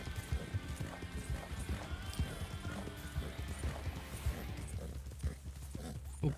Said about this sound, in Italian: Come si sente il cavallo? Beh, per il momento vedo che sta trottando bene.